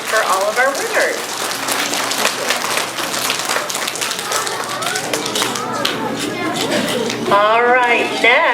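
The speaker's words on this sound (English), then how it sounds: "let's give a big round of applause for Community Bank of Harrisonville and for all of our winners" Steady, loud audience applause at a school awards assembly honoring winners, dense clapping that holds for several seconds with voices and cheers mixed in.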